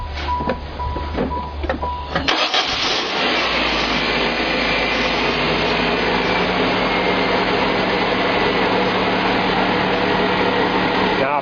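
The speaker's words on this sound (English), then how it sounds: "Now we want to start the vehicle up." A vehicle engine is cranked over and catches, then settles into a steady, loud idle hum with a high whine, heard up close during air-conditioning troubleshooting.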